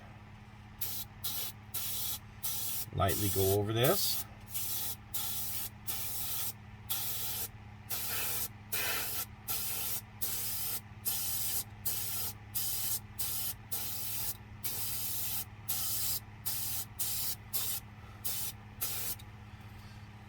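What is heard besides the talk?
spray gun spraying paint on model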